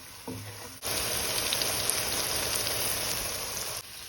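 Spinach and egg curry frying in a pan, a loud steady sizzle that starts abruptly after a brief clatter and cuts off just before the end.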